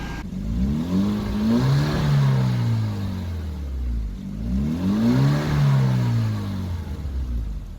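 A 2014 Hyundai Genesis R-Spec engine revs twice, each rev rising and falling in pitch, loud and close, over a steady idle rumble.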